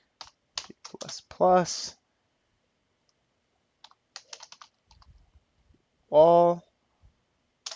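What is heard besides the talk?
typing code on a computer keyboard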